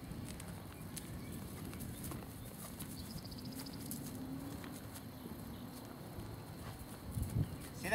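Hooves of a powerful horse being ridden fall in a soft, steady clip-clop rhythm. The beats are faint and distant over a low background rumble, and light scattered ticks and rustles sit around them.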